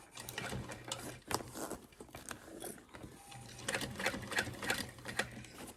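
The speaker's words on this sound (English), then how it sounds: "make sure you're not sewing through your hardware" Sewing machine stitching through a backpack strap with strap connectors and hardware nearby, running in two steady bursts with a short pause between, close and fairly loud.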